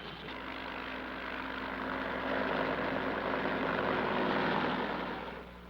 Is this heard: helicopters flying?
yes